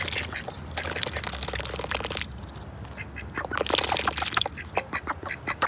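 Ducks quack repeatedly while eating duck pellets, with bursts of calls and pecking noises close by and a pause midway before the calls resume.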